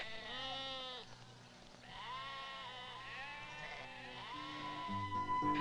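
Sheep from flocks on the limestone hills of southwest France bleat several times in wavering calls, close and clear, with brief pauses between cries and no talk.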